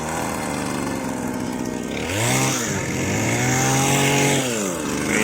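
A garden cutting machine, a motorised trimmer used in garden work in Abu Dhabi, runs loud and close with a steady engine drone, revving up and easing off in rising and falling pitch sweeps throughout.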